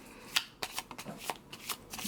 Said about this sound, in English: So then you would take those out and you would go ahead and shuffle again.